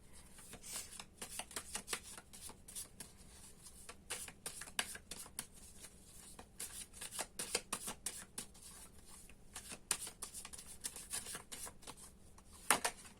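Tarot cards are shuffled close up in quick riffling bursts, pausing briefly and then starting again, with no talking.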